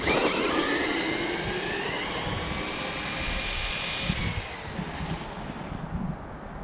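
Hosim X08 RC car on a 3s lipo battery accelerating hard, a loud whining electric motor that rises in pitch, then fades as the car pulls away, with no talk.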